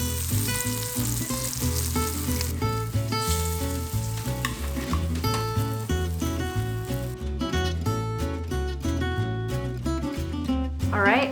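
Battered, salted and peppered sardines fry in oil pooled in a small pan, giving a steady, close crackling sizzle throughout, with background music playing.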